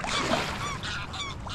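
Geese or waterfowl honk near a kayak among rocky islets on the Rhine: overlapping calls over steady water and wind noise, moderately close.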